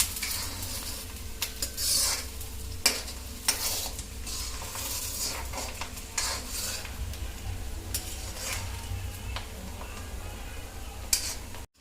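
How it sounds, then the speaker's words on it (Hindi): Onions fry in a pan for a restaurant-style dal makhani. Steady sizzle runs throughout, broken by sharp scrapes and clinks of a spoon stirring against the metal, with no talking. "प्याज को हम फ्राई करेंगे।"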